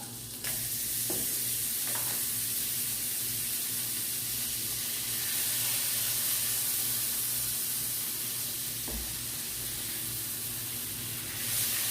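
Steak fries in butter in a pan, with a constant loud sizzling hiss throughout and a few faint stirring clicks, no voices.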